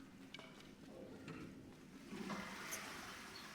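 A toilet flushes in the horror video game Reanimal, a faint, rushing gurgle of water that builds toward the end, quiet and alone.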